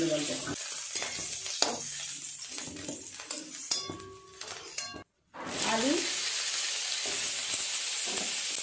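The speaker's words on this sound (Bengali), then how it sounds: "এইভাবে বেগুনগুলো একটু লাল লাল করে ভেজে নিতে হবে।" Eggplant fries in hot oil while being stirred, with a steady sizzle broken by scraping and clinking of the spoon against the pan and a brief silent gap midway.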